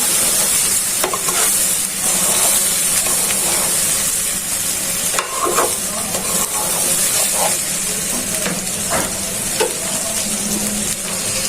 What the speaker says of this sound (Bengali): লবণ দিয়ে চাউলটা ভালো করে ভেজে নিচ্ছি।